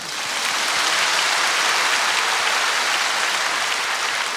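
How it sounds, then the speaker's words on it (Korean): A church congregation bursts into applause during a sermon, dense rain-like clapping that swells in quickly and stays loud and steady to the end. "하나님께 한번 박수하십시다"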